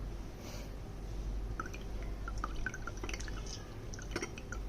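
Orange juice for Indonesian es jeruk trickling through a strainer to catch seeds and pulp, a steady faint liquid drip and patter with a few brief splashes, no talking.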